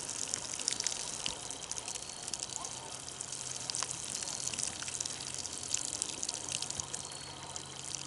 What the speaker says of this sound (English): I'm gonna water these in.